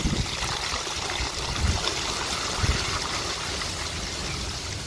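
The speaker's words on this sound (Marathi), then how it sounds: "एक बाटली पाणी खड्ड्यामध्ये टाकून द्या" Water poured from a bottle into a planting pit for a young coconut tree makes a steady splashing, gurgling trickle, close and continuous with no talk.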